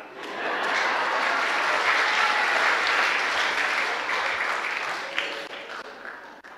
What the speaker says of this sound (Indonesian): Takut kan lu tepuk tangan?